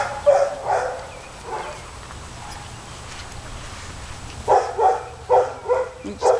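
A hound dog barks a few times nearby, then a quieter stretch before another quick run of sharp barks.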